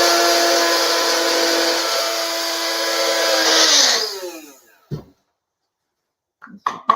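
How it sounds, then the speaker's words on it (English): A small Try Best blender grinds flax seeds in a steady loud whine for about four seconds, then spins down and stops, followed by a couple of brief knocks near the end. "I have this little, it's a Try Best, a little blender. Just going to do it really quick."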